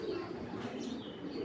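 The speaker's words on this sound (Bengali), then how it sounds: "এটা কিন্তু বিদেশি লাইনের একটা কবুতর, অরিজিনাল বিদেশি কবুতর।" A foreign-line racing pigeon gives a soft, brief coo close by, low and muffled in a quiet space.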